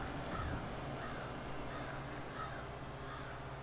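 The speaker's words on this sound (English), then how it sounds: "there's a lot of crows singing outside." Several crows caw outdoors, a regular series of harsh calls spaced roughly every half second to second over a steady background hum, moderately distant and fairly faint.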